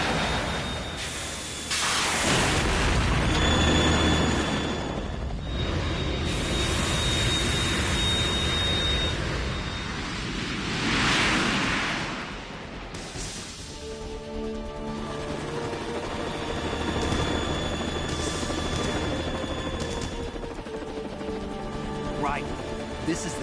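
Harrier jet in the video game Metal Gear Solid 2, a loud continuous jet roar and hiss that swells and fades while game dialogue plays over it.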